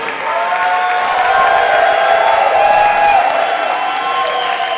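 A large crowd cheers and applauds loudly and continuously, swelling slightly toward the middle before easing a little at the end.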